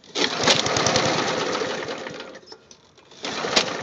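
The engine of a Snapper Hi-Vac self-propelled electric-start lawnmower, its carburetor likely gummed up, runs roughly nearby with a rapid chugging rhythm that briefly sags and dips before picking back up.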